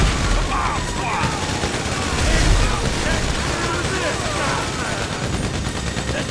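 Sustained automatic gunfire in GTA 5 during a getaway from police, rapid bursts and scattered booms layered into a continuous fusillade, with characters shouting over the shooting.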